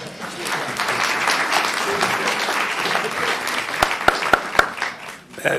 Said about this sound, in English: That was very classy by South Kitsap to clap for all the presenters